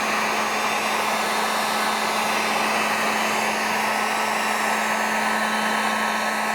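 A heat blower warms matte black emblem overlay film for a Toyota RAV4, giving a steady, loud, close whoosh of blowing air with a constant motor hum that runs unbroken from start to finish.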